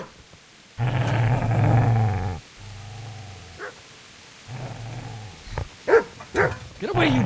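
A dog in the Kingdom Come Deliverance video game growls and snarls at the player in several loud, rough bursts, broken by short gaps and a few sharper yelps near the end.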